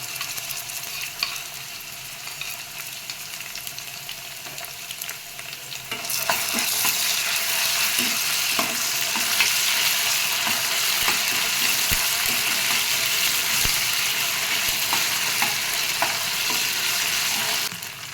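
Ginger garlic paste fries on low flame in a pot for mutton gongura coconut milk biryani, with a quiet sizzle that swells into a loud, steady hiss after the paste goes in, plus occasional stirring taps.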